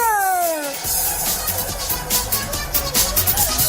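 A cat meows with a short descending cry, followed by a louder, noisier stretch of sound with no talking.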